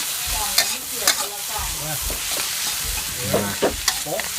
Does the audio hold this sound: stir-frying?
yes